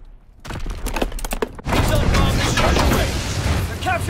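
Dense battlefield gunfire from Call of Duty WWII: after a quiet start, a run of sharp staccato shots gives way to a loud, continuous wash of combat noise with rumbling booms.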